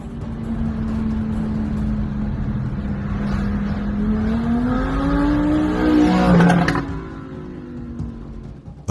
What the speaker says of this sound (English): A car dashcam captures several sports cars speeding aggressively, weaving in and out as they attempt to overtake one another